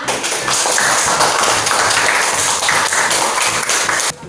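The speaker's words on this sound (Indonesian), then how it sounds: "Tepuk tangan untuk kalian." A classroom of students applauds their classmates, a loud dense burst of many hands clapping together that holds steady for about four seconds and then cuts off sharply.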